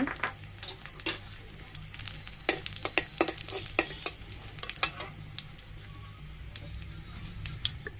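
Black cumin seeds and small-cut dried red chillies frying in hot oil, a steady soft sizzle broken by sharp crackles and pops clustered in the middle, no talking.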